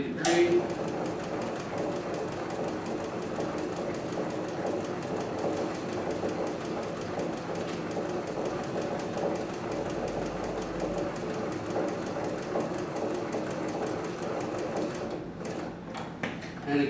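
A cylinder-bed sewing machine stitches a box pattern around the work with a steady mechanical whir and rapid needle chatter running continuously, pausing only briefly near the end; no talk.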